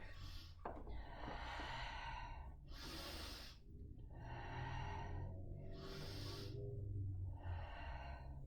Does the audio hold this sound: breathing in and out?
yes